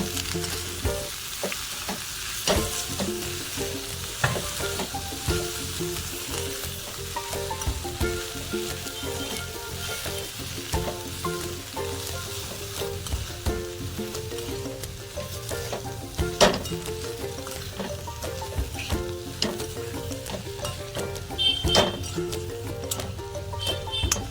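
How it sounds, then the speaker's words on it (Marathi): Finely diced potatoes being stir-fried with spices in a pan, giving a continuous close sizzle with repeated spatula scrapes and clinks against the pan, alone without talk. "आता बटाटा हा आपल्याला चांगला परतून घ्यायचा"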